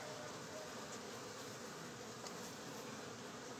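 A marked queen bee buzzing as she is put back into a beehive, a faint, steady insect drone held close throughout, with no talking.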